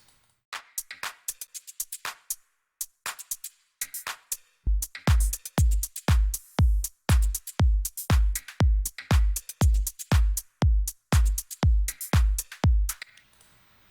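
Percussion loop from an electronic track plays alone, with a tuned kick drum entering after about four seconds and landing in a steady, punchy pulse beneath the crisp hits.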